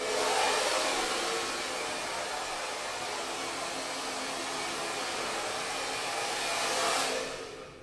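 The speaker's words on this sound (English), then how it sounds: "you have moments like this where the blow dryer comes on." A blow dryer runs continuously at high speed, a steady loud airy whoosh with no talk over it, easing off near the end.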